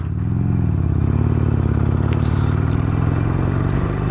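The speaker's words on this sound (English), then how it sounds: "so you can experience that true Harley-Davidson Sportster sound" A Harley-Davidson Iron 883 Sportster engine rumbles close up, a loud, deep, uneven V-twin throb that stays steady throughout, with slight pitch swells.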